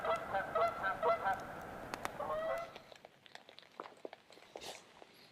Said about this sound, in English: Geese are flying over because I think they're heading over the pond.